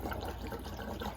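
Fuel pours steadily into a 1948 Buick Roadmaster Woodie estate wagon, a faint continuous liquid gurgle close by.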